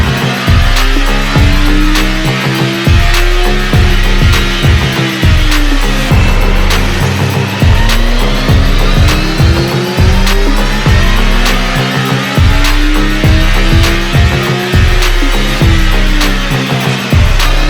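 A 2022 Kawasaki ZX-14R motorcycle engine on a cold start, warming up with a loud, close, steady idle that pulses rhythmically and never settles.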